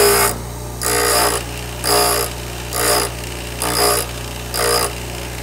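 A Shop Fox drill bit sharpener grinds a drill bit in six evenly spaced bursts of gritty grinding, each about half a second long, over a constant motor hum.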